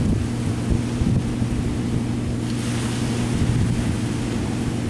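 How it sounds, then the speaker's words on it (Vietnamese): A heavily loaded fishing boat runs at full throttle, its engine droning steadily as it churns the sea into rolling foam, with loud, continuous wash and wind close to the microphone. "Nước nôi sôi cuồn cuộn luôn."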